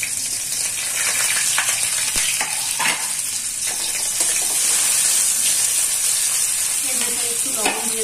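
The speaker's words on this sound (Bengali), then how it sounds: "এবার এই সবজিগুলো এই তেলের ভেতরে দিয়ে দেবো, হালকা করে ফ্রাই করে নেবো" Thinly cut vegetables stir-fry in hot oil in a pan, sizzling loudly and steadily up close with bursts of hissing and the scrape of stirring throughout, no one speaking.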